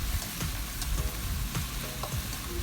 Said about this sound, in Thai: พอได้ที่แล้วเราค่อยใส่ น้ำของแป้งข้าวโพดลงไปเลยจ้ะใส่นิดๆก่อนนะ แล้วก็ค่อยคนมัน